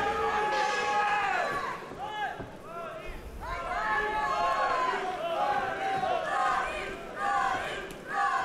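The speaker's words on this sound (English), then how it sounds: "So a lot of support for Florin Lambagiu in the crowd." At a SENSHI-15 kickboxing fight event, a dense arena crowd roars and shouts continuously in support of Florin Lambagiu, with loud layered voices and chanting swelling throughout.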